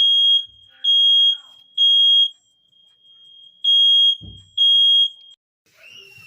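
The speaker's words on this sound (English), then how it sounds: "All right, fire alarm went off." An indoor fire alarm sounds in loud, steady high-pitched beeps, five long pulses with brief gaps, while faint thumps and a voice come through near the end.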